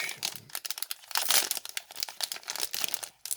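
Crinkly plastic wrapper of an NBA trading card pack being torn and crumpled open, a close, continuous run of sharp rustling bursts with brief pauses and no talking.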